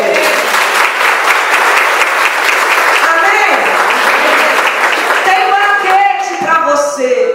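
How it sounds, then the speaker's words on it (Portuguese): A church congregation bursts into sustained applause, dense and loud, with voices calling out over the clapping before it fades near the end. "Você pode dar um aplauso a Ele?"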